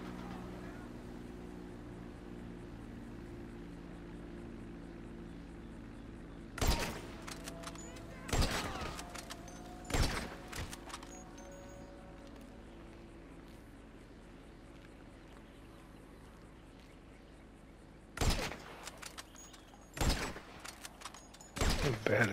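Gunfire in Grand Theft Auto V story mode rings out in scattered sharp bursts, a few isolated shots and short volleys separated by long quiet stretches over a low steady background hum.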